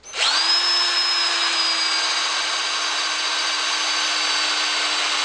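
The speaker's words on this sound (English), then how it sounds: "now I'm going to drill through" A power drill with a flat drill bit spins up sharply and runs steadily, boring through wood with a loud, continuous whine and no pause.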